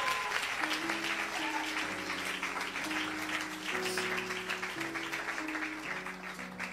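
A church congregation claps for Jesus during a service, with sustained, lively applause over a backdrop of held keyboard or organ chords that shift every second or so.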